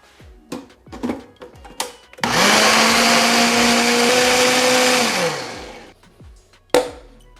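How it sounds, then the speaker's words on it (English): A blender whirs loudly for about three seconds, mixing chipotle crema with a pinch of salt. Its motor pitch stays steady and then winds down, with clicks and handling knocks before and after. "I'm going to add just a smidge of salt, put the cap on, and then blend"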